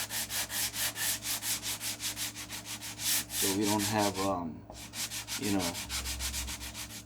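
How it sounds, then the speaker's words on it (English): Rhythmic back-and-forth strokes lightly sand a seam on a wooden model airplane's vertical fin, rasping steadily, close and fairly loud, with a brief spoken phrase partway through. "we'll just basically give a light sanding to this"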